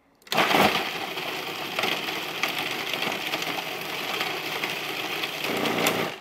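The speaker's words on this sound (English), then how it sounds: "So you wanna grind these up to a fine powder." A small electric grinder whirs loudly and continuously as it grinds pork rinds into a fine powder, starting abruptly and running steadily before easing off at the end.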